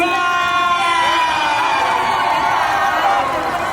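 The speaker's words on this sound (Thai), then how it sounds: "ขอเสียงกรี๊ดดังๆด้วยนะครับ" A large crowd screams and cheers loudly and continuously at the Bangkok Pride Festival 2025, with high-pitched shrieks blending into a dense roar.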